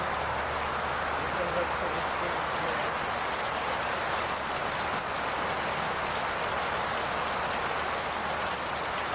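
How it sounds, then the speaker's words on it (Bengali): Heavy rain pours steadily over a village area, a dense, continuous broadband hiss with no break, close and loud, with faint insect-like chirring blended in. "এই যে আমাদের এলাকায় বৃষ্টি হচ্ছে, প্রচুর বৃষ্টি"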